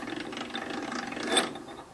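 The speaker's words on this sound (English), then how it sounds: "So now let me put this big drill bit in" Lathe spinning a tile roller workpiece while a large stationary drill bit bores a hole, giving a continuous mechanical grinding and whirring with a brief rise in intensity midway.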